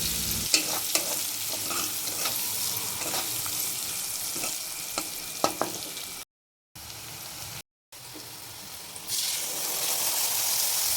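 Onions fry in a pan for a mixed vegetable besara, a steady loud sizzle with repeated scraping stirs. There are two brief gaps of silence near the middle, and no talk.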